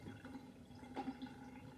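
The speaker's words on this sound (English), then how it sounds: "let's test that out by turning on the water, running underneath" Tap water running over a waterproof printed sticker, a faint soft splashing stream with a few brief gurgles, no talk.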